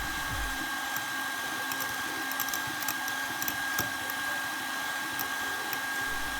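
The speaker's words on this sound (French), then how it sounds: "On continue à fouetter." Spicy mayonnaise is whisked steadily as it thickens, making a continuous mechanical whir with small, irregular ticks and clicks, close and even in loudness from start to finish.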